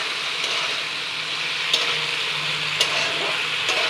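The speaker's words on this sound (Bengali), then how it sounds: "ডিম দিয়া ছোট আলু দিয়ে এখন চলে গেল সোয়াবিন।" Soybean chunks frying in a pan with egg and small potatoes, a steady close sizzle with occasional stirring scrapes and clicks, no talk.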